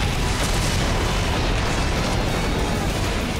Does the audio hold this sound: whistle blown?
no